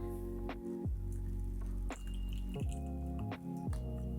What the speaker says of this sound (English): you're gonna just take a juicer, put that inside, and squish that in and let all the juices come out.